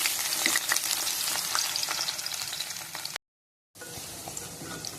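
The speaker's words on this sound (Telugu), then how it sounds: "ఆయిల్ వేడెక్కాక కాకరకాయ ముక్కలు దీంట్లో వేసుకోవాలి. వేసుకొని ఫ్రై చేసుకోవాలి." Round slices of bitter gourd fry in hot oil, a loud, continuous hiss and crackle with occasional stirring scrapes, briefly cutting to silence before the sizzle resumes.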